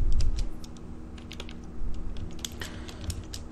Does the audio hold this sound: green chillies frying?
no